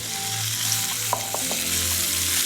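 Beef pieces searing in a hot, uncrowded pan for a sesame beef vermicelli salad, with a loud, steady close sizzle and a few soft knocks of stirring, no voices.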